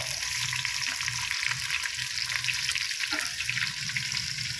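Thinly sliced onions fry in a pan with a constant, even hiss and sizzle, heard close at a modest level with no talking.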